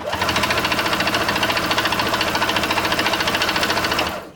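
A Singer Quantum Stylist 9960 sewing machine stitches through eight layers of denim, running steadily and loud for about four seconds, a fast mechanical rattle that labors slightly, then stops abruptly.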